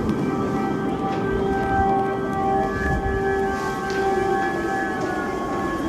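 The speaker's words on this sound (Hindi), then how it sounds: "सायरन लगातार यहां पर बज रहे हैं" A sustained air-raid siren wails at a distance over a low rumbling background in Kyiv, Ukraine, its steady tones holding for several seconds without speech.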